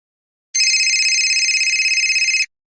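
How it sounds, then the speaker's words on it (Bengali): A phone ringtone trills for about two seconds, a steady electronic warble pulsing rapidly, loud and close, starting and stopping sharply in silence. "একটু পচাকে ফোন করা যাক"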